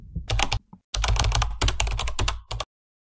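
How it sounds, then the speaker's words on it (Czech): Fingers tap rapidly on a computer keyboard, close and crisp, in two bursts of quick clustered keystrokes separated by a short pause, ending abruptly in silence. "pokládáš prsty na klávesnici a začínáš"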